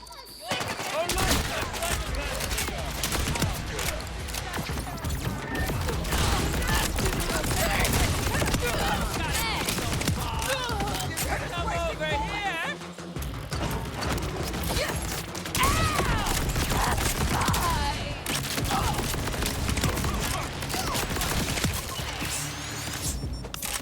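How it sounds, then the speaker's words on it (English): Gunfire in Borderlands 4, a dense, nearly nonstop barrage of rapid shots and mechanical clatter with chaotic combat noise and a voice mixed in. "And the guns are attacking everything."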